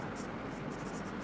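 A pen scratches steadily across a writing surface, a continuous dry scraping that runs without a break for just over a second and sits close and fairly loud against a hissy background.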